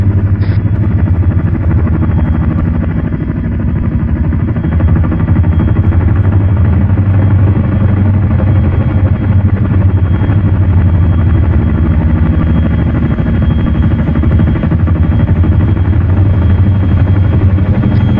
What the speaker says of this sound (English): Nothing quite like the sound of a Chinook, is there?